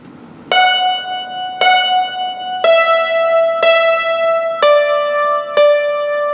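Six clear struck-string notes on a yangqin ring out one at a time with bright metallic tone and long sustain, evenly spaced and alone.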